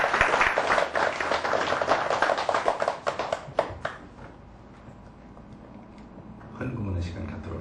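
Church congregation clapping for the pastor, a dense burst of applause for about four seconds that fades out, followed by low murmuring and a voice speaking near the end.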